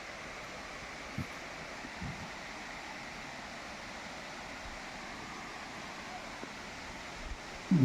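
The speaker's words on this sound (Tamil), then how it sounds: "அந்த அருவி விழுகிற சவுண்டு நல்லாவே கேட்குதுங்க" Steady broadband rush of a waterfall cascading in the Thirumoorthy Hills near Udumalpet, heard from a distance as a constant, even roar with no talk over it.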